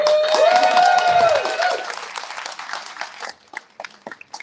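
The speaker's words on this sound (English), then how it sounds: "Round of applause." Applause for student sport volunteer award nominees at a STAR Awards ceremony, a crowd clapping that starts strong under a sustained tone, then thins to scattered individual claps before stopping.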